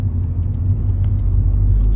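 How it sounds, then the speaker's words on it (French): A 1997 Opel Astra 1.6 16V Ecotec engine turns at low revs while driving in town, a steady, deep, smooth rumble heard from inside the car, loud and continuous without any voice. "Le moteur Ecotec à bas régime comme ça en ville est plutôt agréable à mener."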